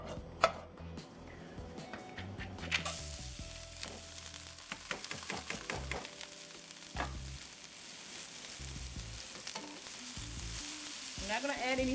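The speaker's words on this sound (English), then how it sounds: "The skillet is very hot, and I need it to be hot when I cook this rice because it still has some wetness to it." Damp rice fries in sesame seed oil in a very hot skillet, sizzling under repeated sharp scrapes and taps of a utensil against the pan.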